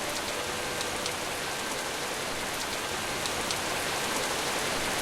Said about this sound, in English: It was raining harder than ever now.